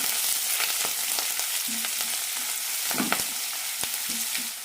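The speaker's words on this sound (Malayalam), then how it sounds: "ഇനി ഇതിലേക്ക് ചെറുതായി മുറിച്ച് ചെറിയ ഉള്ളിയും കറിവേപ്പിലയും ഇട്ട് കൊടുക്കാം കൂടെ തന്നെ ചെറുതായി മുറിച്ച ഇഞ്ചി പച്ചമുളക് നന്നായി വഴറ്റാം" Shallots, curry leaves, ginger and green chilli sauté in a pan for an upma made from idli or dosa batter, giving a steady close sizzle broken by scraping stirs, with no talking.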